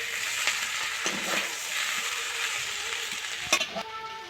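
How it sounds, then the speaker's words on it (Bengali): Egg chicken chowmein stirred in a hot pan with two metal spatulas: a steady close sizzle with soft scraping knocks, and a sharper clack of metal near the end. "এটাকে বেশ কিছুক্ষণ ধরে আমি নাড়বো।"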